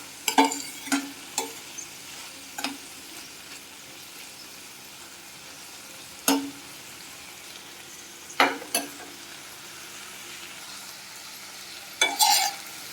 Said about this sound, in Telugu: బాగా ఫ్రై అయినాయండి